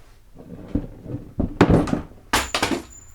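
A Ryobi drill drops a long way to a floor, landing with a few sharp thuds and clatters close by, followed by a brief bounce and rattle.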